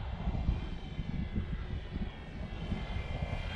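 A Durafly Bf 109E radio-controlled model airplane makes a low pass during a mock landing run, its engine giving a steady, fairly loud drone that holds throughout with slight swells, no talking over it.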